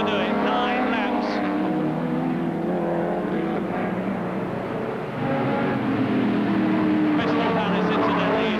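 Saloon cars racing at the Crystal Palace circuit in 1971, a British Saloon Car Championship round, with engines roaring steadily throughout and a brief tyre squeal, while a commentator talks over the continuous noise.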